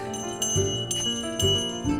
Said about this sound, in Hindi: सुबह सुबह एक घंटी की आवाज सही साउंड कर रही है